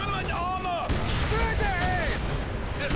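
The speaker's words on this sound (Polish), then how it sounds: "wybuchło właśnie" Deep rumbling blasts and booming gunfire roll continuously in the video game Call of Duty: World at War, with high whistling tones streaking overhead and voices talking underneath.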